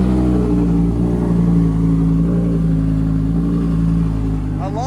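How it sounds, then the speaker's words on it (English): Lamborghini Huracan engine running close by while the car is moved out, a loud steady low rumble with a constant droning hum that holds even throughout, with a brief rise in pitch near the end. "Mike's moving the Huracan out."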